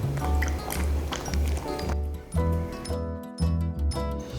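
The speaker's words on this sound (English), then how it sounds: "now we'll pour our heated broth into the gelatin mixture from before and stir until the whole thing is completely smooth and blended" Heated broth is poured into a gelatin mixture for homemade dog gummy candy and stirred, with close, soft liquid splashing, dripping and sloshing that ebbs in small bursts.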